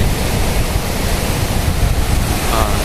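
Sea waves washing against a rock seawall on a beach in Thailand, with the murky brown sea rough during the monsoon. A steady, dense roar of surf continues without a break and no voices.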